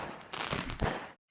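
A firework bursting inside the video game Garry's Mod, a loud crackling blast of about a second with a heavier thump near the end, then cut to silence.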